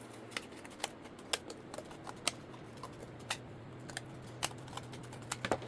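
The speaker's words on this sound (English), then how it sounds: "I mean to go in and trim it up using scissors." Scissors snipping cardboard in a craft workshop, a close series of sharp, irregular cuts over a quiet room hum.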